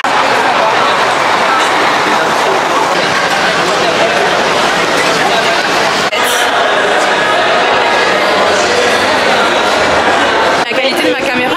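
A metro train rumbles steadily through the underground, a dense, loud wash of rail noise with crowd chatter and voices mixed in throughout.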